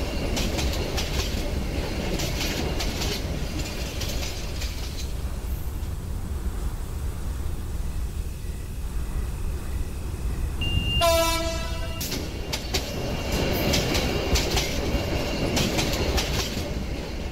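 A train rolls in toward Hasilpur station with a steady rumble and clatter of wheels, sounding a loud, sustained horn blast partway through before the running noise continues.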